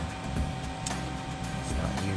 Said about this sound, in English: Apologize for the noise of my fan.